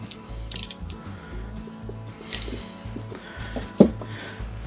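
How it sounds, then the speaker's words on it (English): A ratchet with a 1/4 inch socket clicks in short bursts while tightening a fastener during reassembly of a Mercury Mark 10 outboard engine; close, repeated pawl clicks with a few sharper metallic knocks, no talking. "Use the ratchet with the 1/4 inch socket."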